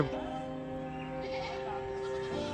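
A goat injured by stray dogs bleats repeatedly in loud, wavering cries that carry across the whole stretch, close by, with a faint background murmur.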